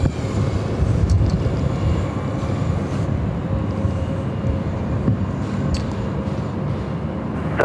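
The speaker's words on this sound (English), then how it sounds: "Got a departure Southwest 1449, here we go." A Southwest airliner departs Los Angeles LAX, a steady loud broadband jet roar with deep rumble holding evenly throughout, no voices present.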